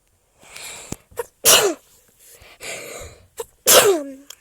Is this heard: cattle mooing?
no